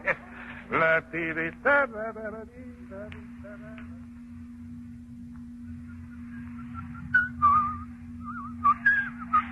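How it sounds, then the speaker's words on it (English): Bright whistled melody in short phrases over a steady low hum, with a pause midway before the tune resumes, close and moderately loud. "Oh, now, Mr. Corday, do you have to whistle that tune all the time?"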